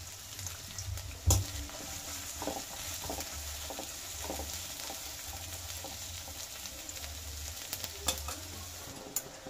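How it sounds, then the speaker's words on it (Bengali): Sliced onions fry in hot oil in a wok for biryani birista, a steady close sizzle broken by a few sharp clinks and scrapes of stirring, with no voices. "তেল নিয়ে আমি এর মধ্যে পেঁয়াজগুলোকে দিয়ে দেবো। এই পেঁয়াজগুলোকে আমি বেরেস্তা বানাবো"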